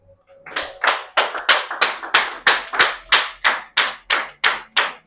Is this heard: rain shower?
no